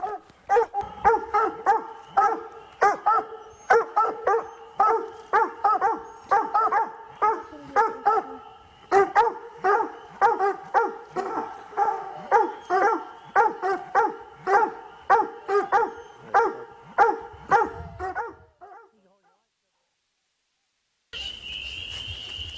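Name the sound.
hunting dogs barking at raccoon up a tree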